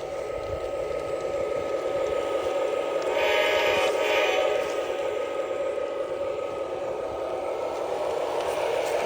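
A Lionel Dash 8 Santa Fe model locomotive pulls a long train, giving a steady mid-level running hum with a faint brief rise in the middle; no voices over it.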